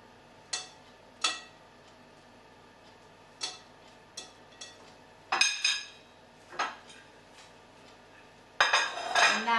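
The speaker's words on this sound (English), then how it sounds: "So I'm just going to mix all of these into my bowl first of all." Spoon clinks and taps against a bowl while date cake ingredients and clear honey are mixed, a string of separate knocks with gaps, then a denser burst of clattering at the end.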